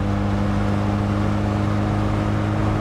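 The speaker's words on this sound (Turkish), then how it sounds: "Bu şekilde bir motor sesi ve gidişi de bulunuyor." A two-door Ford Taunus TC2 with a 1.6-litre engine runs with a loud, steady engine drone that holds an even pitch throughout.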